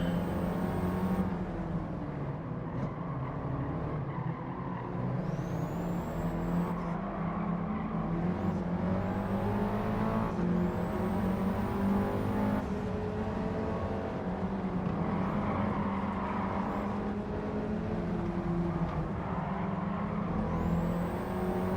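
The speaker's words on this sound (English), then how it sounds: "Definitely a more muted sound versus the two cars we've driven today." Muted engine note of a turbocharged car with a dual-clutch gearbox in a racing video game, a steady droning hum with rising whines through gear changes, continuous and moderately loud with no talking.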